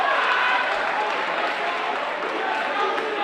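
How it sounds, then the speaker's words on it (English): Home crowd at a Pascack Hills vs. Pascack Valley boys high school basketball game roars steadily and loudly through the gym on the opening possession, a dense unbroken wash of cheering and chatter. "You can already hear the Hills crowd get into it right on the first possession"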